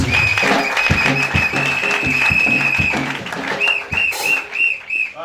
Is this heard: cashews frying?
no